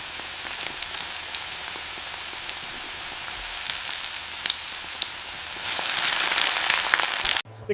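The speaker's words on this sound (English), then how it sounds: "Frying makes it crispy like this" Fish cake frying in hot oil at a street food stall in Phan Thiet, Vietnam: a steady, fine crackling sizzle that swells louder and brighter toward the end, then cuts off abruptly, with no talking.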